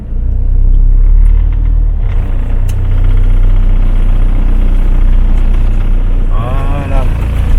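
Heavy low rumble of a camper van engine labouring with a slipping clutch on tight bends, loud and close throughout, with a brief whining squeal rising near the end.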